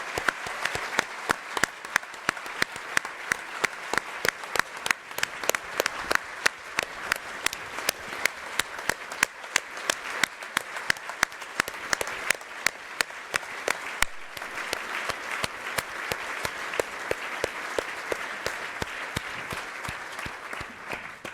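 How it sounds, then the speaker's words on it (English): An audience at an English language teaching innovation awards ceremony applauds the winners and finalists, a long run of sustained clapping with crisp individual claps standing out. "the finalists to stand up and receive a round of applause"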